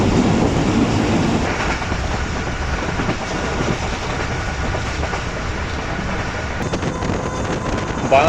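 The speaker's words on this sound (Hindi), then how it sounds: "शालीमार एक्सप्रेस हल्की स्पीड पे 2 रेलवे स्टेशन पर दौड़ लगाते हुए" The Shalimar Express on its Karachi to Lahore run rolls at slow speed through a railway station, a loud continuous rumble with rhythmic clickety-clack of wheels over rail joints and some wind noise.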